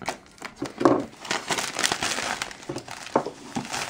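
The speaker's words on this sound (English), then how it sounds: "using a man's blade, let's get unboxing. And we should be able to just cut that." A blade slicing through the packaging of a 2012 Ivy Bridge MacBook Air 11.6-inch box, heard as close crackling, crinkling cuts and tearing scrapes in irregular bursts, with no talking.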